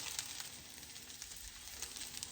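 Okra frying in an iron skillet, a faint, steady sizzle with scattered soft crackles and pops, no voices.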